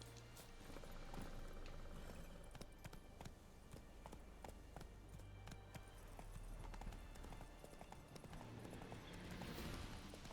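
Roach the horse from The Witcher gallops in quick, rhythmic hoofbeats that carry on without a break, set in a busy game soundscape and fairly quiet overall.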